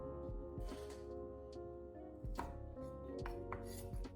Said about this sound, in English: Trim off the roots and slice the onions thinly,